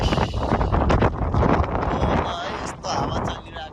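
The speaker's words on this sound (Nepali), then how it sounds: "यस्तो हावा चलिरहेको छ विराटनगरमा" Wind blows in Biratnagar, Nepal, gusting hard against the microphone in a constant buffeting rumble that swells and dips over a few seconds.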